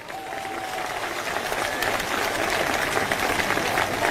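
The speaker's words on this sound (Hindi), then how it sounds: "एक बार जोरदार तालियां" A large crowd at an outdoor BSP political rally applauds the singers with loud, dense clapping that builds and holds steady, a faint tonal whine under it at the start.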